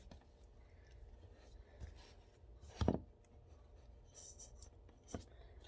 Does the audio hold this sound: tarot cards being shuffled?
yes